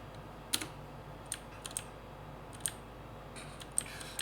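Soft clicks and taps on a computer keyboard, irregular and spaced out as single keys are pressed while building in a game, faint over a steady background hum.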